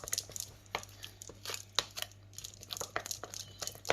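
A spatula stirs savoury pancake batter in a bowl, giving quick irregular wet scraping and soft knocks up close, faint and continuous with no speech.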